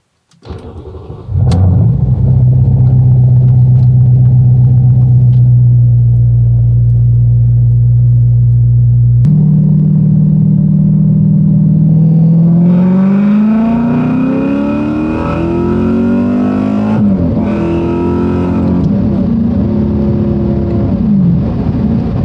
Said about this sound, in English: I'm gonna go ahead and drive around the neighborhood and do a third gear pull and see how it goes